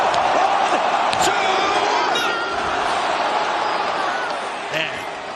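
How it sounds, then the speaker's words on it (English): A dense wrestling arena crowd roars and cheers during a near-fall pin count, a loud sustained wall of voices with a few whoops and thuds, easing slightly toward the end as a commentator talks over it. "That had the crowd going."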